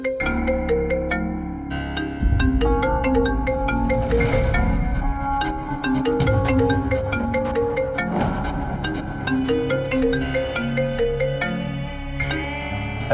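A melodic phone ringtone plays continuously, bright and repetitive, with a steady electronic beat underneath and no talking.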